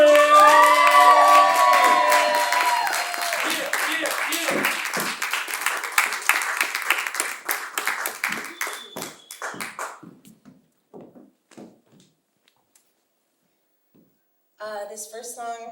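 A late-night live comedy show audience bursts into loud cheering, whoops and clapping for an introduced singer, the roar gradually thinning into scattered claps and fading to near silence before music briefly starts at the end.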